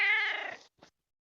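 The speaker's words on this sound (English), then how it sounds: "Stairs are rather creaky." Creaking hotel stairs that sound like a cat, heard as a loud drawn-out meowing wail for about half a second that trails off, followed by a short fainter squeak, alone in otherwise quiet surroundings.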